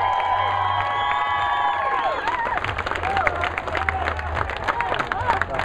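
A crowd cheers and claps for contestants at the World Slugburger Eating Championship in Corinth, Mississippi, with loud, steady applause, whoops and shouts that swell over the whole moment while voices mingle in the mix.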